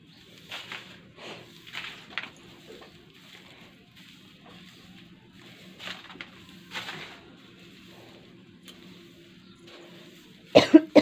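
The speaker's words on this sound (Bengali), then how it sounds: "কাল থেকে একটু খুব খুব করে কাশি হচ্ছে," Someone with a cold coughs at home in the morning: a few soft, scattered coughs and throat clearings, then a sharper burst of louder coughs close by at the end.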